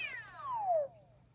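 A single drawn-out cat meow from a Super Mario 3D World–style game, a clear descending cry that fades after about a second, with no talk over it.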